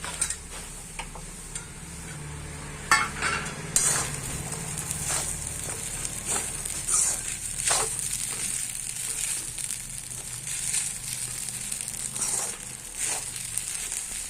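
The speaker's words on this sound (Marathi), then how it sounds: "या सगळ्या जिन्नसला एकत्र मिक्स करून घ्यायचे आहे" Sabudana khichdi being stirred and mixed in a pan with a spoon, giving soft scraping, ticking and crinkling sounds, close and steady with faint sizzle underneath.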